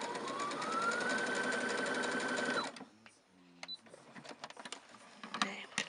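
A domestic sewing machine runs in one steady, loud burst for nearly three seconds while stitching down a button on a small fabric wreath, then stops, leaving quiet handling clicks and rustles.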